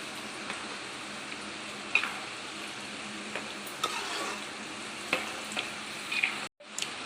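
Okra frying crisply in hot oil over a high flame, a steady close sizzle with scattered sharp pops and crackles, no voices.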